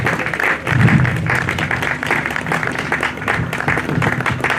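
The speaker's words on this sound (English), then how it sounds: "Please may we rise on our feet with a clapping ovation as we make welcome Barrister Ishmael." An audience rises to give Barrister Ishmael a clapping ovation at a programme closure: loud, dense, continuous applause from a large crowd, with a steady roar of hands and some low murmur underneath.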